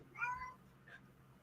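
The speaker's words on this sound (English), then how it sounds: "That's a cat." A cat gives a single short meow near the start, fairly close and moderately loud, followed by a fainter second call over a low steady hum in a quiet home.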